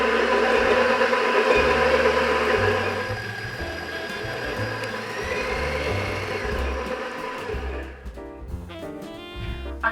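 A stand or hand mixer whirs steadily as it creams butter and sugar for apple cider cookie dough in a home kitchen, a continuous motor hum that eases off midway and stops near the end.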